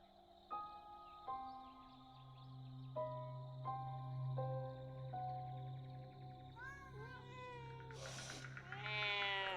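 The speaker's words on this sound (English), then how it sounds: "Seems like these cats have a bone to pick." Cats in the video game Copycat meowing in a string of short, clear, evenly spaced calls that grow into wavering, drawn-out caterwauls near the end, close and prominent over a low hum.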